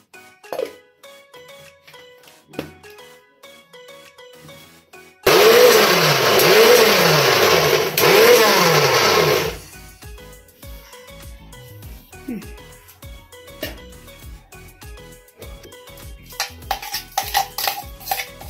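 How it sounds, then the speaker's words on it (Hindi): A kitchen mixer grinder coarsely grinds bathua greens, whirring loudly in a few pulsing bursts for several seconds, framed by quieter clinks of utensils before and after. "बथुआ को मैं मिक्सी के जार में डाल लेती हूँ और मिक्सी में इसे दरदराई पीसेंगे"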